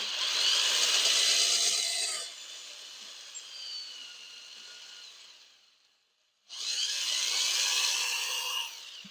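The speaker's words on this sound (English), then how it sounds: "now's the time to get to drilling." Harsh, gritty grinding of a tool cutting into material in two bursts, separated by a quieter stretch and a brief near-silence.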